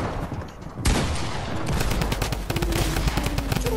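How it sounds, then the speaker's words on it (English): Gunfire in Fortnite during the flooded-map Doomsday event: a sudden loud burst of rapid shots, then a steady, dense crackle of repeated firing that continues to the end. "Oh, why are they shooting?"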